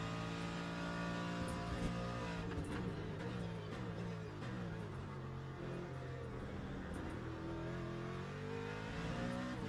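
An LMP2 race car's engine drones and revs steadily in a racing video game, a loud continuous mechanical roar with shifting pitch that runs throughout, with no talking.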